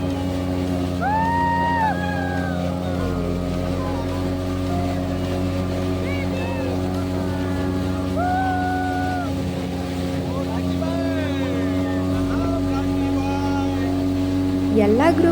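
A speedboat cruises across Kanva reservoir with a constant droning engine and rushing water, while faint whistle-like tones drift over the steady noise and no one talks.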